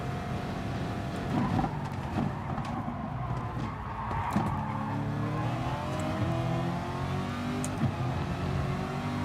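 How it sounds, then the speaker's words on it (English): A McLaren race car in the GT Sport racing video game drones through a continuous engine note that rises and falls with revs, with occasional tire noise and other cars mixed into steady track sound. "I should be revving it up like this"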